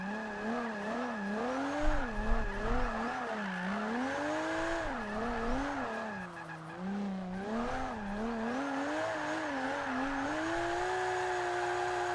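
A car drifting, its tires squealing in a long wavering whine that rises and falls with the slides, steady and fairly faint over a low engine rumble.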